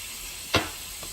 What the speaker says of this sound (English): You can hear that sizzle in there, can't you?